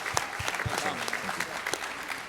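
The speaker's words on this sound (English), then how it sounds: "You can clap for that." Faint, scattered clapping from an audience at a business team gathering, a handful of sharp individual claps with a voice murmuring underneath.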